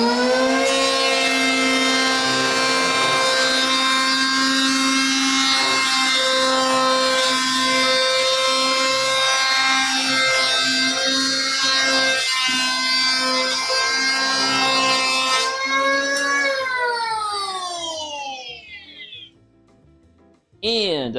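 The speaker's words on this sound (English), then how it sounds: "Power tool." A power tool saws through sassafras lumber being milled for a large CD shelf, a loud steady whining cut that holds for about sixteen seconds, then winds down with a falling pitch and stops.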